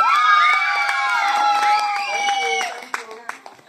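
Children and parents at a primary school Halloween costume contest clap and cheer loudly, high excited shouts and whoops over steady clapping, thinning out toward the end with a few scattered claps.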